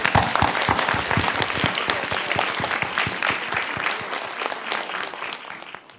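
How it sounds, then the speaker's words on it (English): Audience at an international science and economics forum gives warm applause to welcome a professor, a full, sustained burst of many hands clapping that holds strong, then gradually thins and fades toward the end. "Let's give a warm applause"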